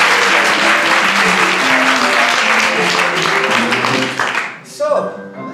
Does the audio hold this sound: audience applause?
yes